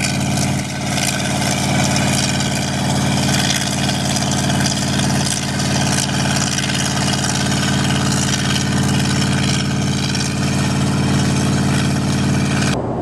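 A loud, steady engine powers irrigation in Texas, droning continuously at close range with a deep, constant roar and no talk.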